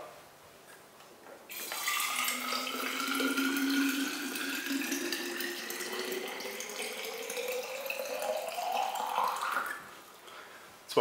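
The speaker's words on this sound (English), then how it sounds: "So I'm gonna fill my mana bottle up." Drinking water runs from a tap into a 500 ml Mana water bottle, a steady close pour whose pitch rises as the bottle fills over about nine seconds.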